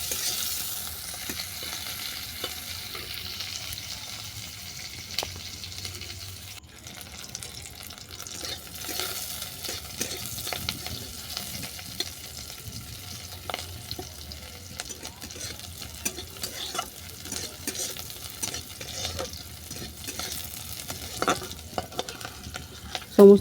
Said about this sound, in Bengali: এগুলোকেও নেড়ে ছেড়ে ভালো করে ভেজে নিচ্ছি।